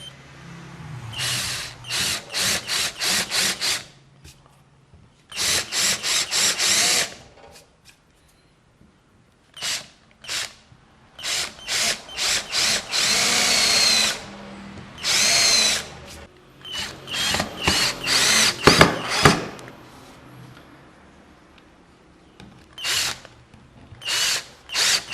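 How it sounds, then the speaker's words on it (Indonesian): A power drill bores pilot holes and countersinks into wood for a DIY floating teak shelf, whirring in repeated bursts of a few seconds each, close and loud, with short pauses between. "Ini kita lubangi pilot ya. Lalu ini untuk countersink."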